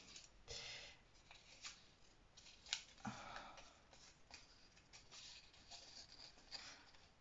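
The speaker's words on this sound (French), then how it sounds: "je vais mettre un petit coup de ciseau pour enlever ce qui n'est pas bien coupé" Scissors snipping off uneven edges of a thin rhodoid plastic sheet while making a small Easter basket, giving quiet, scattered crisp cuts and rustles close by.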